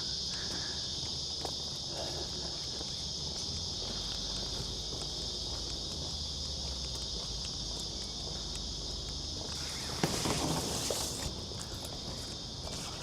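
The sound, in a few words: cicadas chirping in an Australian summer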